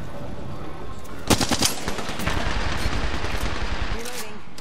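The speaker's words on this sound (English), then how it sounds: "Listen up, I'm getting shot at." Rapid video game gunfire crackles in dense automatic bursts, loud and close, with a game character's voice speaking over the shooting.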